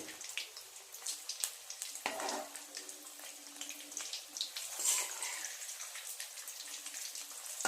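Egg devils, crumbed egg chops, frying in hot oil, giving a steady crackling sizzle with scattered pops and bursts throughout, close and moderately loud, with no talk.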